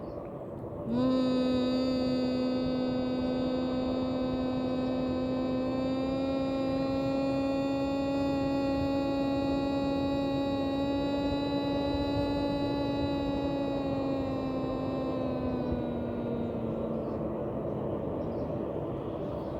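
A long, sustained buzzing hum imitating a bumblebee, made by a voice through clenched teeth on one continuous exhale, steady for about fifteen seconds before fading.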